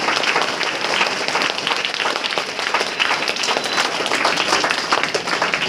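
Children applauding together at a school gathering, a steady dense patter of many small hands clapping at once, loud and continuous throughout with no talk over it.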